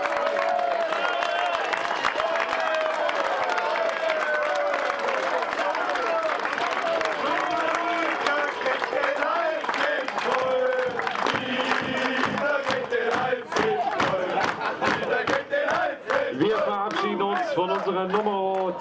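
Stadium crowd of football fans applauding and cheering a departing FSV Zwickau player at a season-ending celebration, a dense continuous roar of clapping and shouts under a loud announcer's voice.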